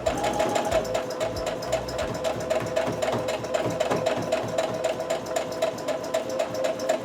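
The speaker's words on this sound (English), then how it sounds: "I'm going to gradually sew in just kind of like one needle width to the right of where my original seam was" A sewing machine stitches a quilt block seam, running as a steady, rapid mechanical chatter of needle strokes, close and continuous with no pauses.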